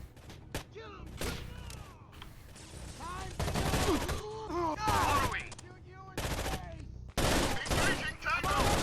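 Rainbow Six: Vegas 2 firefight in a theater: repeated loud bursts of automatic gunfire and single shots in close succession, with radio-style voices talking between and under the shooting.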